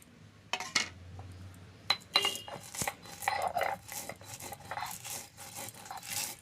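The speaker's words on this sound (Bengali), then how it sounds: "ভাজা মশলাগুলো আমি এবার বেটে নেব।" Half-fried spices ground by hand on a stone in a village kitchen: repeated rough scraping and rubbing strokes with occasional clinks, close and moderately loud, no talk.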